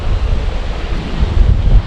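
Wind gusting over a river on a warm day, buffeting the microphone as a low, rumbling roar that swells and eases in uneven waves through the short stretch, with no voices.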